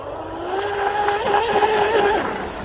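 A Deltaforce 35 RC boat with a water-cooling mod runs its electric motor on the water, giving a close, whining tone that rises in pitch and holds briefly before easing off.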